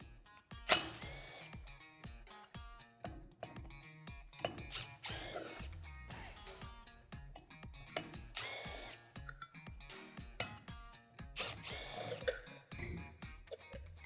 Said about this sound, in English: if I just remove the 4 bolts